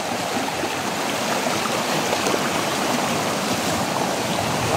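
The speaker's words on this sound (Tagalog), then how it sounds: "Lakas ng agos guys." Strong stream current rushing outdoors, a loud, continuous broadband roar of flowing water that stays steady throughout, with no voices.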